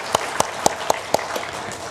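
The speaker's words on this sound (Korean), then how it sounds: "박수 주세요." A church congregation during Sunday worship claps in an even, steady rhythm: six distinct, evenly spaced claps over a soft background hum, with no talking.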